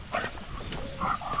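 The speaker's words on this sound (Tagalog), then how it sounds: "Yung mga aso natin, pinalabas natin para maka-exercise at makalakad-lakad." Dogs let out outdoors for exercise on a farm give short, faint barks and whimpers, a couple of brief yelps heard at a distance.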